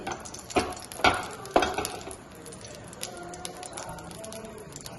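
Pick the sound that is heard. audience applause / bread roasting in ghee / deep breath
bread roasting in ghee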